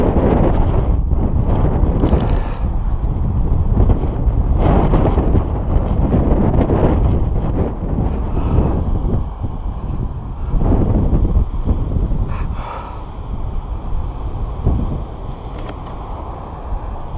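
Cold wind blows hard across the microphone at the seashore near high tide, a loud, continuous low roar and buffeting that surges and eases throughout, with no talking.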